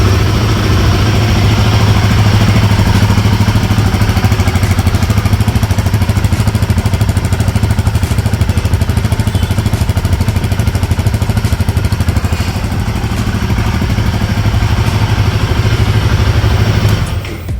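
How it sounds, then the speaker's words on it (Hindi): A Royal Enfield Guerrilla 450 motorcycle engine runs at a steady, loud idle close by, with an even low rumble and no talk, and holds that level for about seventeen seconds before easing off briefly at the end. "चलिए अब आपको मैं बाइक स्टार्ट करके दिखाती हूँ।"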